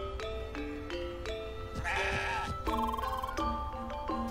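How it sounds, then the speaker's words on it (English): A goat in the video game CrossCode bleats in a short wavering cry, set against bright, chiming game music. "You are a good little goat"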